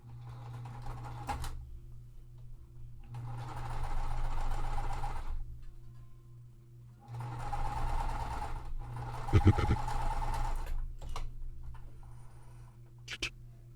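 Sewing machine stitching quilt pieces in two bursts of steady whirring, separated by short pauses with faint clicks, moderately quiet and close.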